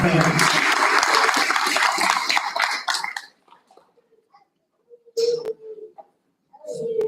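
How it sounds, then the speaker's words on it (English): A board-meeting audience claps for a student of the month, a loud dense burst of applause for about three seconds that stops abruptly, followed by near silence, a few coughs and brief speech. "Let's have another round of applause for John Brown."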